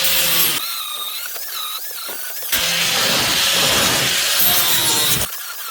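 Steel flat stock plates being cut for a grinder stand made from an old trailer axle: a loud powered saw runs in two long whining passes, with a shrill rising squeal and a brief pause between them.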